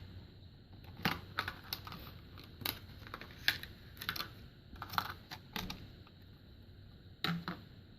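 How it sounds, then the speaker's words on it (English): Plastic packaging of a replacement Ford four-button remote case being handled and opened, a run of small crisp clicks and crinkles at close range, quiet, with no talking. "Let's start by opening the contents of this package."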